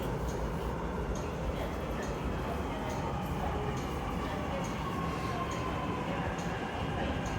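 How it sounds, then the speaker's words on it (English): An MTR South Island Line train arrives at Lei Tung Station, giving a continuous broadband rumble and hiss of rolling stock with faint periodic ticking in the station, moderately quiet and steady throughout. "The train to Admiralty is arriving."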